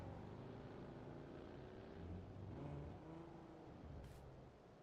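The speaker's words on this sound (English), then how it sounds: "I think I hear a car." A car engine in a video game drones on steadily at a low volume, with a muffled rumbling tone that rises slightly in the middle before easing off.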